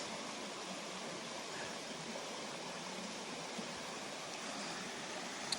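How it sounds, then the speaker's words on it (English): A little creek flowing through open timbered woods, an even, continuous soft rush of water with no voices. "Beautiful, beautiful little creek."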